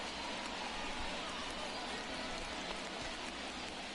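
Steady rain falling in the baseball video game MLB 23, during a Blue Jays at Angels game, heard as a constant broadband hiss throughout with no clear breaks.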